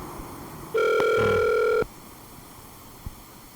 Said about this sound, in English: I'm gonna call John Webster